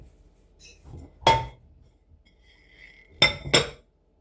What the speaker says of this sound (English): And we're going to put the lid on.